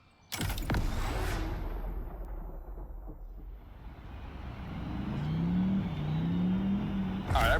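Hoonicorn car in the Motorfest racing game, its engine roaring and rising in pitch as it revs, loud and sustained with a booming burst at the start and another near the end.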